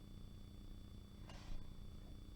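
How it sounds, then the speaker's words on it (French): A cat purrs close by with a steady, soft, low rumbling rhythm, joined by a brief rustle partway through. "ah j'ai un chat qui arrive."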